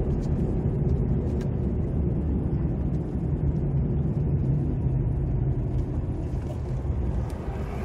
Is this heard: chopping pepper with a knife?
no